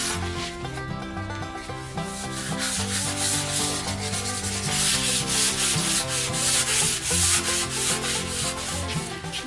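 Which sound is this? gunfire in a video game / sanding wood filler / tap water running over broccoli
sanding wood filler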